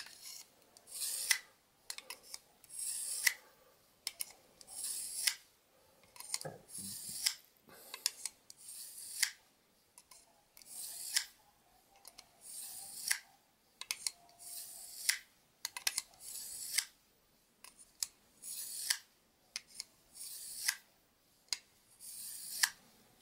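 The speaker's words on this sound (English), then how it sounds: "So let's go with the Mora knife now. Do it a few times just in the honing section." A Mora knife is drawn through the honing slot of a Lansky Blade Medic sharpener, a dozen or so crisp scraping strokes in an even rhythm, close and fairly quiet with short pauses between passes.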